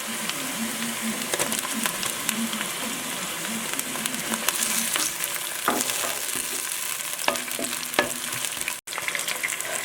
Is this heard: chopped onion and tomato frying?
yes